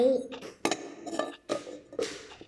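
Toy cooking pots and lids from a children's play kitchen set clink and clatter in several quick, close bursts, with a voice speaking softly in between.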